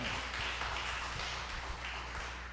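Applause from a church audience comes through as light, sparse clapping, fairly faint and somewhat distant, over a constant low hum in the room.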